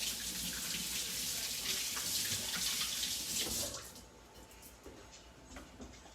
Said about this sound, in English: And then I gotta wash my hands really quick